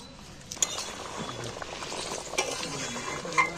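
A spice mixture for Bengali aloo dum sizzles and bubbles in a pan, a soft steady crackle with a few light metallic clinks from stirring.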